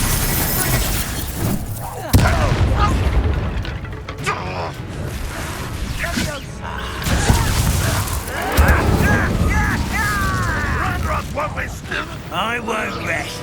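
Incendio fire spell and Expelliarmus disarming spell blasts crack and boom in a Hogwarts Legacy battle. Several sharp magical impacts and whooshes land amid clattering combat effects, while voices shout over the fight.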